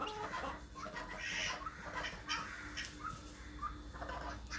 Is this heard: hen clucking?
yes